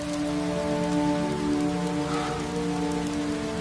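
Steady rain pours down without pause, a dense even patter on surfaces with a faint low tonal hum running underneath.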